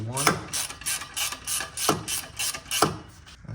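A hand ratchet clicks in short bursts while snugging exhaust clamp bolts on a Honda Element catback exhaust install, with loud close repeated pawl clicks, sharper strokes at intervals, and a brief voice in the background.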